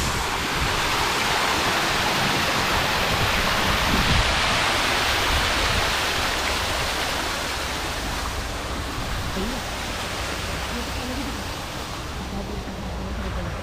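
A constant, dense roar of a waterfall in a restaurant garden in Moradabad fills the scene, loud and unbroken, with faint voices barely audible beneath it.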